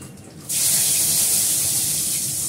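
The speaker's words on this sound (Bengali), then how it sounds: "একটা দেবো, দুটো তেজপাতা দেবো, তেজপাতাটা আমি ধুয়ে দেবো।" A kitchen tap suddenly opens and runs steadily while bay leaves are rinsed for cooking, a bright close hiss of flowing water that continues unbroken.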